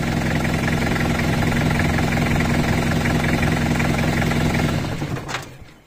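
A Toyota Hilux 2.8 litre diesel engine cranks on a super capacitor and lithium hybrid battery, a loud, fast, rhythmic churning that runs steadily for about five seconds before cutting off abruptly.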